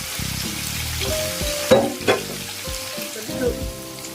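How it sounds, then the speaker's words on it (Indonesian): Marinated tofu frying in hot oil, a steady loud sizzle with scraping and stirring knocks from a utensil as the pieces are moved around the pan. "Setelah minyak panas, goreng tahu yang tadi kita marinasi ya."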